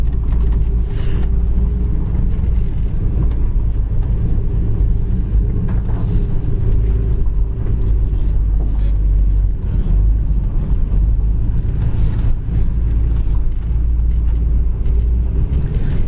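A silver 1981 Pontiac Trans Am cruising slowly on the road, heard from inside as a loud, steady low engine drone with constant road and wind rumble and no speech.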